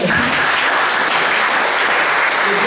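An audience at a live show claps loudly and continuously, a thick, even wash of hands that holds for nearly three seconds without a break.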